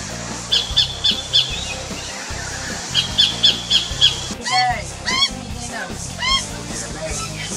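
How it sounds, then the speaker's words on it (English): Sacred kingfisher giving repeated sharp, squawking calls in short clustered bursts from somewhere nearby in the Australian bush, with other birds and faint voices in the background. "The sacred kingfisher calling his mate."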